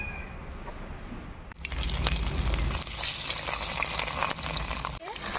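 Rohu fish pieces rubbed with turmeric and salt hit hot oil in a pan, setting off a sudden, loud, continuous sizzle with crackling pops that carries on steadily, heard up close.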